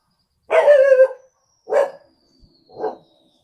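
Three dog barks in a row, the first longest and loudest, the next two shorter and a little weaker, spaced about a second apart with silence between.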